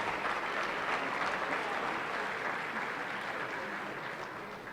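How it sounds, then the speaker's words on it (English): Sustained, dense applause from a room full of people at an awards ceremony, honoring basketball honorees; steady and full throughout, tapering slightly toward the end. "Ladies and gentlemen, one more round of applause for your basketball honorees."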